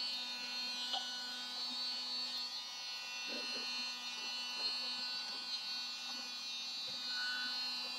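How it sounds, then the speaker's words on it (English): A battery-powered mini vacuum cleaner hums steadily throughout, a constant whiny buzz with faint clicks and rattles of scattered diamond painting drills being picked up. "I have a little vacuum cleaner, a mini vacuum cleaner."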